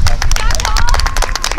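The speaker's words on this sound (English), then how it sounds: "let's clap for Cole" Audience clapping at a youth sports session, a dense patter of hand claps mixed with crowd noise, a shouting coach and a squeaky, shrill whistle-like tone running through.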